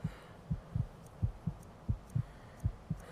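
The heartbeat sound effect in the video game Skyrim: steady, low, muffled thumps, some doubled, about ten beats in three seconds, close and alone.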